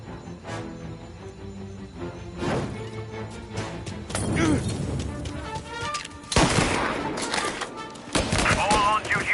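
Rapid bursts of gunfire in the video game Mafia: Definitive Edition crackle through, with crashes and impacts, amid other loud game noise.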